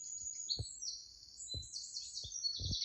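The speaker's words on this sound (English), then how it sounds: "Wow, look at them birdies." Birds chirping from a television, high twittering song running continuously across the clip with several low thumps underneath.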